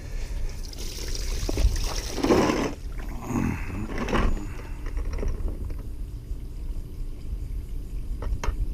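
Water mixed with fabric softener is dumped out of a container used for soaking a cast net, first rushing out in a heavy pour and then tapering to a thin trickle.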